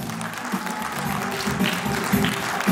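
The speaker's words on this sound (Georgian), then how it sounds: "თქვენი აპლოდისმენტები ქალბატონ ნათია ფრანგიშვილს" An audience at a children's concert applauds warmly, a continuous wash of clapping with some low tonal sound running underneath, moderately loud and sustained throughout.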